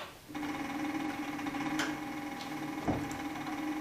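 A Cowboy CB3200 leather sewing machine runs slowly in reverse, giving a steady close motor hum broken by two or three distinct stitch knocks.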